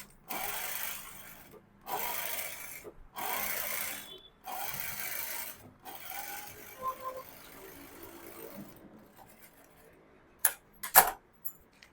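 A sewing machine runs edge stitches on a blouse in several short bursts of whirring separated by pauses, then a few softer handling clicks and rustles, close and fairly quiet.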